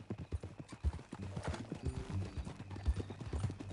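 Horse hooves clip-clop on the ground in Red Dead Redemption 2, a brisk, uneven rhythm of close hoofbeats with a faint voice underneath.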